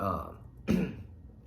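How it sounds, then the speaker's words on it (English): Someone speaks briefly, then clears his throat once, a short rough rasp close to the microphone, followed by quiet. "Excuse me, sorry, I had to clear my throat."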